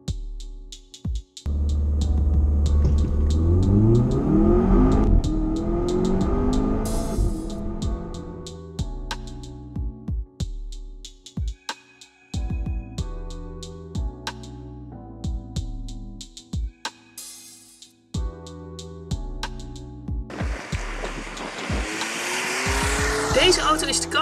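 A Volvo V60 Polestar under launch control: the engine revs hard, then rises through repeated gear-changing acceleration runs with tire squeal, loud and close throughout.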